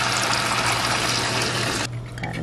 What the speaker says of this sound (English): Got 4 cups of water right here. I'm just gonna pour in there.